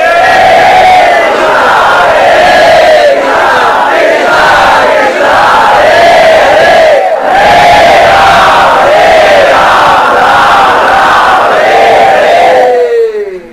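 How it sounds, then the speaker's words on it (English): A large crowd of devotees at Kaliya Ghat in Vrindavan loudly chanting the holy name of Krishna in unison, a dense, roaring mass of voices with rising and falling swells, sustained and very close. "We must chant the holy name with great attention, with great sincerity, crying out for mercy."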